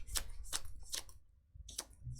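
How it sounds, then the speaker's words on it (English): A deck of Keyforge cards being shuffled, with four short crisp riffling bursts in quick succession at close range and a quiet pause before the last one, no talk over them. "So I do have to actually shuffle these because I won't be drawing all of them."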